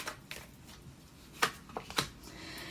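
Tarot cards slide and flick off a deck in a tarot reading, giving a few soft, quiet papery snaps and shuffles, with two sharper card flicks close together near the middle.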